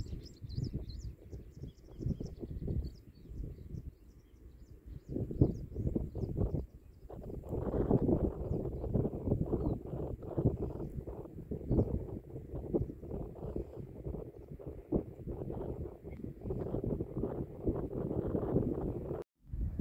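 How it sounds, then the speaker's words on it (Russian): Wind gusts at Yanardag on the Absheron peninsula, buffeting and rumbling against the microphone in uneven, surging bursts for the whole stretch, close and fairly loud with no talking. "чтобы, глядя на него, вы могли почувствовать силу ветра"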